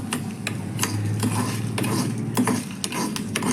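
Four dried red chillies frying in a pan with oil while making a sour-salty dosa, a steady close sizzle with repeated stirring and light scrapes of a utensil against the pan, no voices.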